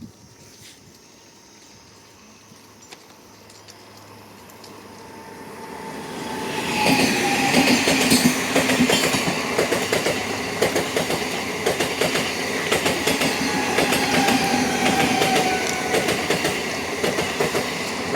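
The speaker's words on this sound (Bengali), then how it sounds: "আর এই যে মেট্রো ট্রেন।" A metro train approaches from quiet ambience, swelling into a loud, sustained rumble with rail clatter and faint wheel squeal as it passes close by on the track.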